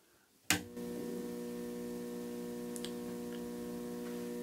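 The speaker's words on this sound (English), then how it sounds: "So I believe you can hear the hum." Two ballast-free 4-foot T8 Type B LED tube lights in a quiet room give off a steady low electrical mains hum, starting abruptly with a click as they switch on and continuing unbroken.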